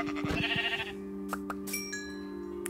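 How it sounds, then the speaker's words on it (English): Sheep bleating in the Minecraft video game, a wavering game-style bleat in the first second over a steady tonal background, followed by a few faint clicks and chimes. "perfect! A double-headed sheep."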